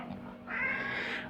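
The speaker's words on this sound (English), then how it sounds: "They like me, these kitties." A single cat's meow at a commune, a short close drawn-out cry rising after a brief quiet moment, fairly soft with no talking over it.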